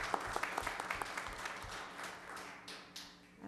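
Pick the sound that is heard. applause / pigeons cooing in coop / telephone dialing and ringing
applause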